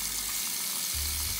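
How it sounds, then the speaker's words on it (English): Steady rush of tap water running from a faucet as crystals are rinsed beneath the stream, a continuous close hiss with a slight shift in tone partway through. "you run your crystal underneath the running water a couple of times"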